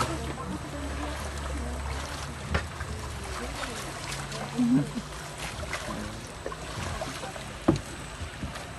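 A small boat moving across water at a water-ski facility in Turkey, with splashing and sloshing, low engine or hull rumble, occasional knocks and people talking nearby.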